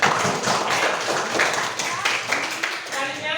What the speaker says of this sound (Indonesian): Tepuk tangan untuk Esa